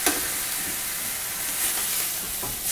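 Meat searing in a hot frying pan for a spicy salpicon salad, a continuous loud sizzle and hiss of fat with faint crackles, close and steady, with no voices.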